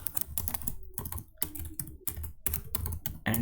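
Someone types VBA code for Excel on a computer keyboard: rapid, close key clicks in steady bursts with short gaps, quiet overall and with no talking.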